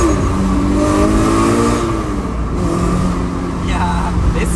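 Toyota GR86 on a track at Fuji with a changed final drive, its engine revving and climbing through the gears, loud and close from inside the car, with rising engine tones and people talking over it.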